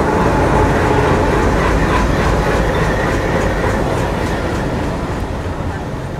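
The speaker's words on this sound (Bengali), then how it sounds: "65 সিরিজের লোকোমোটিভ নিয়ে প্রবেশ করছে আমাদের আজকের সফরসঙ্গী আন্তনগর রূপসী বাংলা এক্সপ্রেস" The 65-series locomotive brings the Rupsha Bangla Express into a platform with a loud, continuous rumble and clatter of wheels on rails, close by and fading slightly toward the end.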